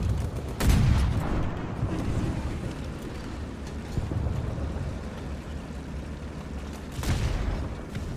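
FV 4202 tank cannon firing in War Thunder, two heavy booms several seconds apart over a constant rumbling engine drone.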